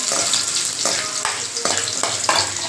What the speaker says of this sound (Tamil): நான் ஒரு நாலு பூண்டு வந்து நல்லா குட்டி குட்டியாக சாப் பண்ணி வச்சுருக்கேன் இப்போ அது நல்லா வறுபடட்டும்